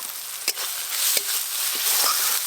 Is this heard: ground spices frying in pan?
yes